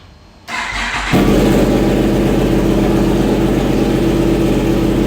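A Kawasaki H2 four-cylinder motorcycle engine starts up and settles into a loud, steady, throaty idle, close to the microphone.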